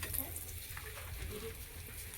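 Bay leaves and a dried red chili dropped into hot oil for a dal tempering, giving a steady, close, low-level frying sizzle with no talking.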